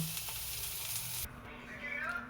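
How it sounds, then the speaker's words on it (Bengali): Beans sizzle and fry in a pan on a home stove, a steady close hiss that shifts partway through as the cooking sound changes, with no talk. "হয়ে গেছে আমার শিম ভাজা"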